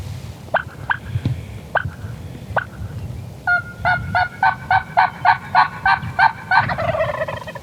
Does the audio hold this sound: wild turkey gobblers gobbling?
yes